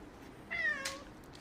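A single short meow from a cat, fairly close but soft, rising and falling once against quiet background noise.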